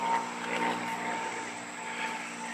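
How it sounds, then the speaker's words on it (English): A small propeller plane drones steadily overhead at moderate distance, its engine hum even and continuous near an airport flight path, with no voices over it. "Small little plane probably headed to Shannon Airport"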